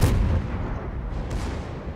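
Naval gunfire in World of Warships, an American ship's barrage: a heavy booming salvo opens, then a long rumbling roll of distant shells fades out over two seconds, loud and dense with no voices.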